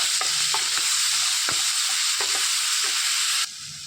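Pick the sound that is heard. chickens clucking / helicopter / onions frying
onions frying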